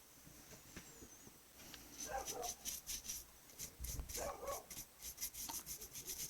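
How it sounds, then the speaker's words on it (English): A neighbor's dog barks far off through an open window, faint and muffled, with a few spaced barks under closer rubbing and scraping sounds from a room where someone is painting. "Neighbor's dog."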